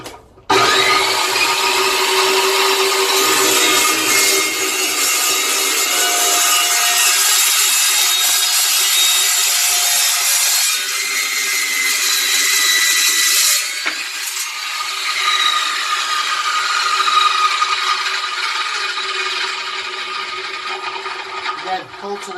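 Evolution Rage 2 power saw cutting through thicker material, a loud, sustained grinding whine that changes as the blade bites, close up with no talk over it.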